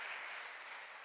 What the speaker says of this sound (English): Let us give Peter a round of